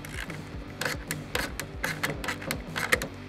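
A ratchet wrench removing an 8mm bolt that holds the stock diverter valve on a Ford F150, quick close repeated clicks coming in short bursts, with nobody talking.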